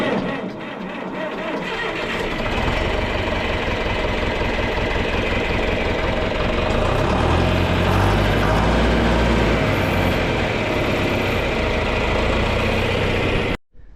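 A John Deere 4020 tractor engine cranks and catches, then runs at a steady, loud idle with a dense low rumble that holds unbroken for most of the span before cutting off abruptly near the end.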